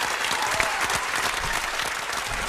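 Dense, continuous applause from a studio audience on a hip-hop radio show, a wash of many clapping hands at steady loudness with a few whoops mixed in.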